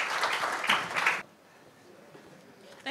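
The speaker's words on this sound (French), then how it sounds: "Est-ce qu'on pourrait applaudir," Brief burst of audience applause at a conference, dense clapping for about a second before dropping away to quiet room tone, with a short sound near the end.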